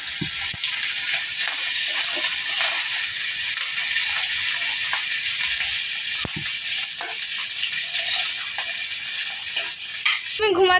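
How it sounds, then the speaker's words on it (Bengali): Rohu fish roe fritters frying in hot oil, giving a steady, close crackling sizzle with scattered pops that runs the whole time, ending in a brief clatter. "মাছের তেলটা ফুটে উঠছে দেখে মামি ঢাকনা দিয়ে দিছে"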